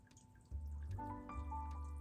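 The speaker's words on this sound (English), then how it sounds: "even the funny little water feature" A small garden water feature with five or six spouts, set in a high-country cottage garden in Colorado, trickles and drips steadily close by. The flowing water forms a continuous bed of sound throughout.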